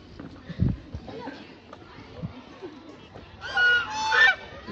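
Geese or ducks honk in a short burst of loud, nasal calls near the end, close by, after a stretch of low rustling and scattered thumps by a lake.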